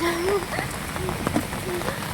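Heavy rain pours on a flooded street in Delhi, a dense steady patter with splashes, while someone talks briefly over it.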